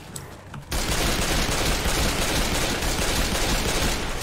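Sustained, dense automatic gunfire in Left 4 Dead erupts after a brief quiet start and rolls on continuously, loud and close, with no talk over it.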